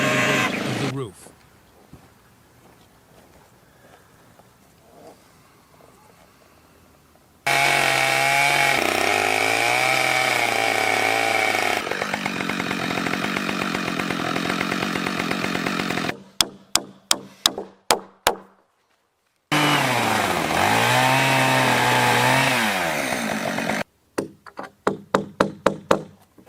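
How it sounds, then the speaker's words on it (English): A chainsaw carves a saddle notch into a log for a log cabin, loud close bursts of engine whine rising and falling across several long cuts, separated by quiet stretches and sharp knocking hits. "chainsaw rapidly clears the bulk material, carving a deep saddle"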